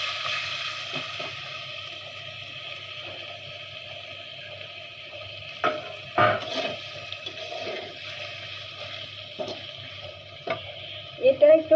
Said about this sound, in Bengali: এটা একটু ভালোভাবে নেড়ে নেব।